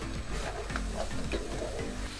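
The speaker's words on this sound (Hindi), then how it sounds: "मसाला हमारा बड़ा अच्छा सा भून लिया है हमने।" Spiced masala for Pakistani beef paya sizzles and fries in a pot with steady stirring and scraping, a soft continuous crackle heard close and alone.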